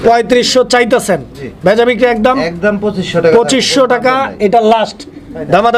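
Pigeons cooing at a pigeon market where Lahori and silver lakha pairs are on sale, soft repeated coos mixed with steady overlapping talk from people nearby.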